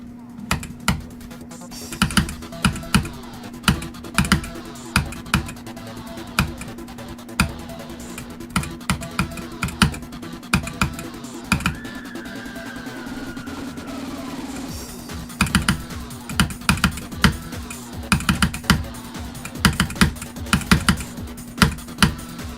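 A computer keyboard with its shift key removed clacks loudly and close in rapid, irregular flurries, with steady electronic game music running underneath.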